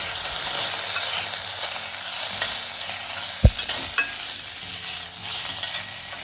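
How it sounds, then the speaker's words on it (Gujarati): A spoon stirs a sooji mixture with tomato ketchup and pizza seasoning in a pan: soft repeated scraping over a faint sizzle, with one sharp clack midway and a few lighter taps after. "આ બધી વસ્તુને એકદમ સરસ રીતે મિક્સ કરી લઈશું"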